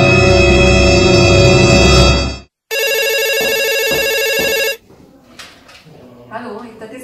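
A telephone rings with two loud electronic trills separated by a short gap, then the ringing stops and quieter background sounds follow.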